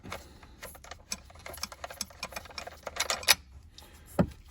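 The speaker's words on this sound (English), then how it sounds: "Now we can get our socket in here and undo these two bolts for your battery hold down bracket." Ratcheting socket wrench loosening the 10 mm battery hold-down bracket bolts on a 2020 Aston Martin Vantage, with rapid close metallic clicks in bursts and a sharper clank near the end.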